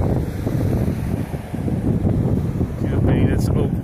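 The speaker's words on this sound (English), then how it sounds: "It's very windy up here today" Strong wind buffets the microphone on the Twin Peaks hilltop in San Francisco, a loud, steady low roar that swells and gusts throughout.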